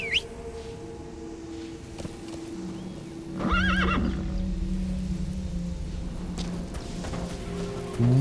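A horse in the video game Metal Gear Solid V neighs loudly in a clear whinny, close by, following quieter hoof clip-clops and ambient game sounds, with a sustained tone underneath.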